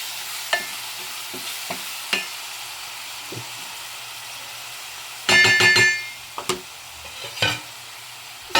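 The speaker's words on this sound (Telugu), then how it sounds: "ఆనియన్స్ బాగా ఫ్రై అవుతాయి" Onions fry in a pan with curry leaves and salt, a steady soft sizzle broken by sharp clinks and scrapes of stirring, with a busier burst of clatter partway through.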